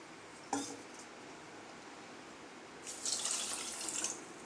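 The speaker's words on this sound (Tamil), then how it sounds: "ஒரு கப் சர்க்கரைக்கு ஒரு கப் தண்ணி நம்ம சேர்த்துடலாம்" One cup of water is poured onto one cup of sugar in a pan to make syrup, a steady splashing stream rising near the end over a hissy room background.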